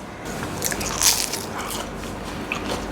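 Someone bites into a crispy raw banana bajji fritter, giving a close, sharp crunch that is followed by a few crackling chews, with no talking.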